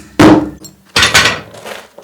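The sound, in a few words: hammering to break a concrete shower pan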